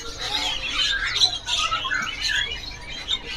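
A male cak ijo songbird calls in high, chattering squawks and rapid twittering phrases, fairly close and steady, with no talk over it.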